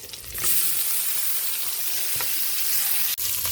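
Tomatoes hit hot oil in a pan of pinakbet and set off a loud, steady sizzle that carries on without a break, with a brief clink partway through and no voices.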